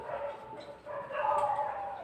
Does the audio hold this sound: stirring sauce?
no